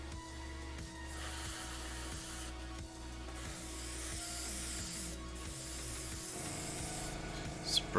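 Airbrush spraying paint onto a small resin figure of a sea priest, a steady close hiss over a low pulsing compressor hum that shifts near the end.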